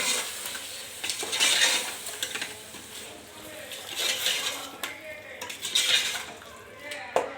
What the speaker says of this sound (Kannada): ಈಗ ರುಬ್ಬಿರೋ ಮಸಾಲೆನ ಹಾಕ್ಕೊಳ್ಳಿ. ಹಾಕ್ಕೊಂಡು ಸ್ವಲ್ಪ ಹಾಗೆ ಮಿಕ್ಸ್ ಮಾಡ್ಕೊಳ್ಳಿ